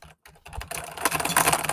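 Computer keyboard typing comes through doubled on a livestream's audio, as a dense, loud flurry of overlapping clicks that builds after a few sparse taps.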